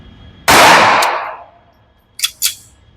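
A SIG P320 Legion pistol fires at an outdoor range: one loud sharp report with a decaying echo, followed by two quicker, fainter cracks shortly after.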